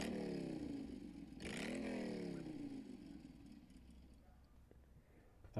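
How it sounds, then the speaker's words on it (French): A single motorcycle engine revs, its pitch swooping up then easing down before fading, fairly distant and thin, with a brief louder bump at the very end. "Motorcycle."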